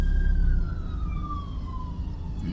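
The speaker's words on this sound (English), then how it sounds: "that's an ambulance going by right there" An ambulance siren passes at moderate distance, its wailing tones sliding steadily downward in pitch over a constant low rumble of traffic.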